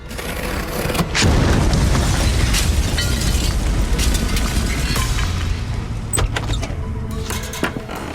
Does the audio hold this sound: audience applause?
no